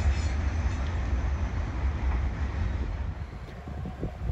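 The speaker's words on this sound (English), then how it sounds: "see the dust coming off that train" A dusty coal train passing on the tracks at Princeton, Indiana, producing a steady, loud broadband rumble and rolling wheel noise with wind buffeting, continuous throughout without voices.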